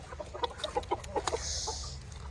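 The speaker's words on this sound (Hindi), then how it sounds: "ओह मुर्गी की लड़ाई हुई है।" Several chickens cluck in quick, irregular bursts while fighting, sounding agitated and close, with a brief higher squawk partway through.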